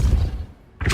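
Depulso knockback spell cast in Hogwarts Legacy, a heavy thudding impact up close, then a brief lull before a second loud burst cuts in at the end.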